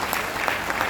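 Loud, dense applause from an audience at a business partners' gathering fills the whole brief moment steadily, with no voices over it.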